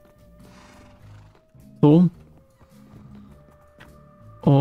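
Two loud whinnies from Minecraft horses burst out, one near the middle and one at the end, over quieter game sounds and someone talking.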